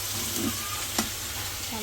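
Green peas sizzling in a hot pan, a continuous close frying hiss with one brief scrape of a stirring spoon midway.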